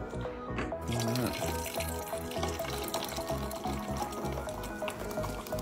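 Mango-flavoured hard seltzer pouring into a glass, a steady continuous liquid splash and fizz that runs close and fairly loud for several seconds.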